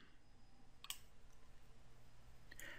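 Faint, sparse computer mouse clicks while editing a delivery route in Maptitude mapping software, two short isolated clicks over a quiet room hum.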